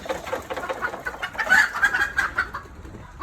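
Two chickens cluck busily close by, a run of short rhythmic clucks building to a louder, denser burst midway before easing off, with no talk over them.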